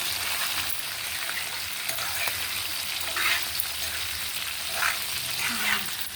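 Green chillies and curry leaves fry in oil in a pan, giving a steady close sizzle with occasional louder crackling bursts and faint stirring throughout.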